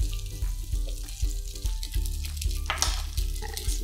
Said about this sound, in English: I'm going to toss in the cooked spaghetti into this.